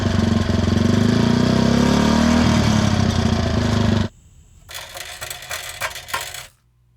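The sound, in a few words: Honda 50 C100 motorcycle engine running with reproduction muffler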